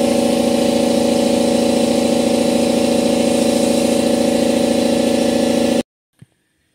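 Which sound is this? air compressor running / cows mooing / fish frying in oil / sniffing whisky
air compressor running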